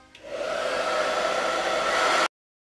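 A hair dryer blows to dry paint on a Chalk Couture chalk transfer silkscreen mesh, a steady close, loud rushing whir that switches on quickly, holds for about two seconds and cuts off abruptly.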